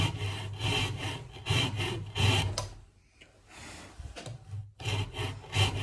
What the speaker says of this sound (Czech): A nařízneme si to do požadované délky.